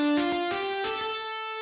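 Doubled overdrive and distortion guitar presets in BeepBox, panned hard left and right, play a short buzzing harmonic-rich phrase of a few sustained notes with plucked attacks, fairly loud and alone.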